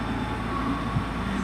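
A Class 175 train at Cardiff Central station, a steady loud rumble of wheels and engine as it rolls into the platform, with no talk.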